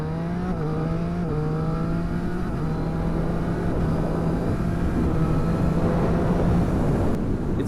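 A 2015 Triumph Street Triple RX motorcycle engine drones loudly and steadily up close, its pitch stepping down a couple of times early on as if shifting gears, with no talking over it.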